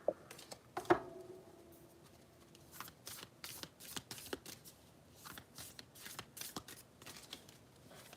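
Tarot cards being shuffled close up, a quiet run of soft riffling snaps and flicks in irregular bursts, with a couple of sharper taps near the start and no talking.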